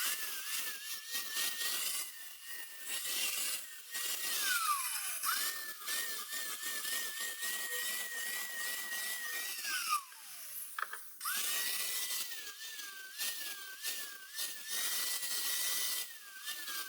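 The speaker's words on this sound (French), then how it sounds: "il faut faire un bon chanfrein pour pouvoir laisser la place à la soudure" A grinder cutting a chamfer into metal ahead of welding, a high whining drone that rises and dips as the disc bites and eases off, sustained and close, with brief pauses.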